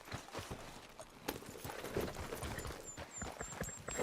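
Horse hooves clip-clop at a walking pace in Red Dead Redemption 2, a steady, fairly faint rhythm of close hoofbeats with no talk.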